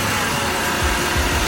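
A Chevy six-cylinder car engine idles with the hood open, a low steady rumble with a couple of heavier surges toward the end.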